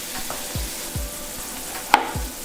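Chicken browns in a pan with a steady, moderate sizzle, broken by a few low thuds and one sharp utensil tap near the end.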